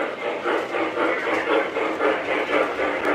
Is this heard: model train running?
yes